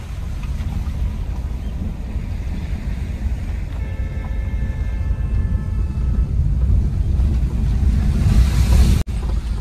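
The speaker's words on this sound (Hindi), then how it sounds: "तो जी ये है पनोद नाला और अच्छा खासा पानी आ गया भैया" Steady rushing water of a swollen stream roars continuously, loud and broadband, with a faint tonal whine partway through and no voices.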